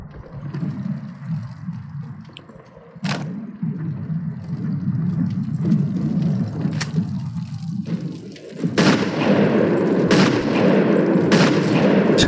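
Gunfire in the Sniper Elite video game, with sharp shots standing out over a steady rumbling game background and a heavier burst of repeated shots near the end.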